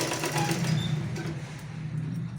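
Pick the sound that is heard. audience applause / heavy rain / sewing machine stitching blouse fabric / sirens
sewing machine stitching blouse fabric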